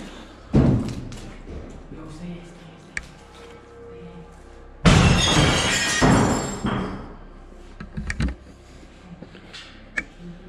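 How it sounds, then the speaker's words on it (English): Rocks thrown at the windows of an abandoned building strike with heavy thuds, then one loud crashing impact of breaking glass that rings on for about a second, followed by scattered smaller knocks. "Rocks are thrown at the windows, with some hitting dangerously close to them."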